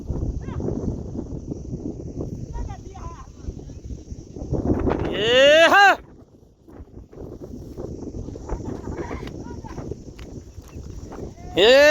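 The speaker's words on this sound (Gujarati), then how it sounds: "બીજી ભેંસો આપણી આ બેઠી" Buffaloes lowing, with a loud drawn-out moo in the middle and another near the end, over outdoor rustling and distant voices.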